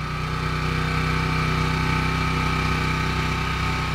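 A snow blower engine runs steadily at a loud, even drone while clearing half a metre of snow from a ramp and a wide courtyard, close and constant throughout with no voices.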